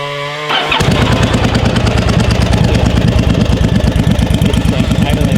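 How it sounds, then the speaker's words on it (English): A motorcycle engine with a rusty gas tank fault is started and then idles roughly and unevenly, a loud close steady chug that pops and stutters on its own. "It's like idling like trash"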